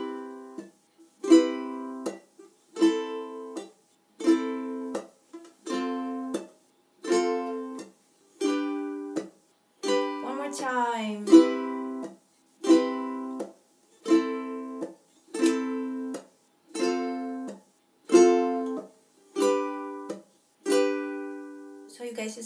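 Ukulele strums the chords of a song in a down-hit pattern, short rhythmic bursts repeating at an even pace with brief gaps between, close and moderately loud with no speech.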